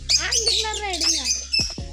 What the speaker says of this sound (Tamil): African love birds.